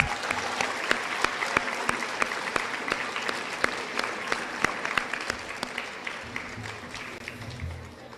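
Sustained applause from an audience for students at a junior high school academic awards ceremony, steady dense clapping with sharp individual claps standing out, fading toward the end under a low voice.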